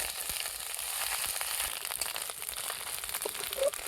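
Onion and ginger-garlic paste fry together in a pan for a katla fish curry, a close, steady crackling sizzle broken by scraping stirs and a small clank near the end.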